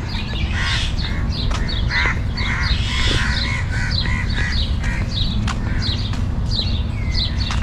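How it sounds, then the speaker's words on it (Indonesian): A flock of crows cawing in a quiet park, many harsh repeated caws overlapping from several birds at close and middle distance over a steady low background rumble, with no talking. "Banyak gagak."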